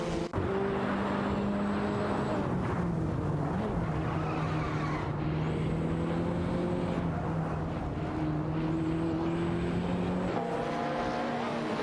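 Race cars in an AI racing game, including a Chevrolet Camaro IMSA, hold a loud, continuous engine drone with shifting pitch, tire squeals and passing cars, and no talk over it.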